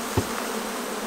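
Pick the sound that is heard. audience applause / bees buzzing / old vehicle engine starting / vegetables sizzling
bees buzzing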